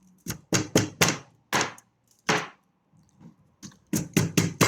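Knife chopping raw ingredients, prawns nearby, on a home kitchen board for a shrimp sauté: bursts of quick, close, sharp thunks in short runs, a pause, then another rapid series.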